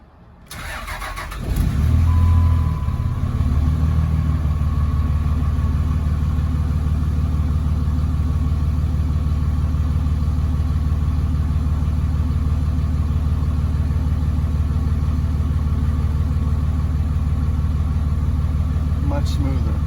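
A Cummins diesel truck with an NV5600 transmission cranks and fires up, then settles into a loud, steady, rumbling idle close by for the rest of the stretch, with no one talking over it.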